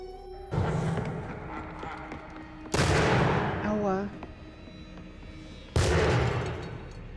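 Musket fire in the Assassin's Creed 3 video game: three loud, sharp shots a couple of seconds apart, each followed by a decaying boom, with faint game background sound between them.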